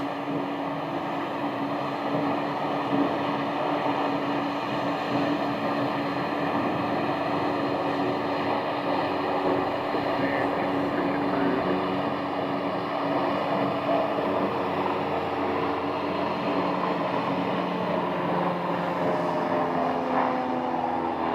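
Airplane rolling for takeoff at Scottsdale Airport, a steady broad engine roar with droning tones that holds loud and even throughout, heard from nearby without voices.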